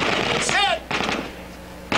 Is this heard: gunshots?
yes